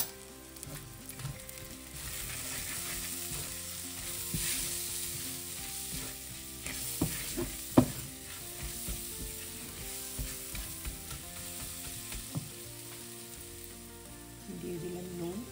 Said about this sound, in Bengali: মশলাটা বেশ ভাজা ভাজা হয়ে গেছে